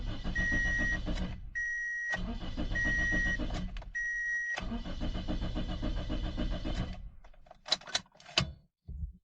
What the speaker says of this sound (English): As you can see, the car starts but won't start.